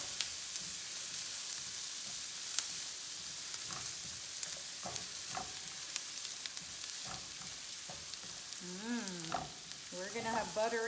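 Butter sizzles steadily in a pan over medium heat as the start of a salmon alfredo pasta, a close, continuous frying hiss with occasional stirring clicks and no talk.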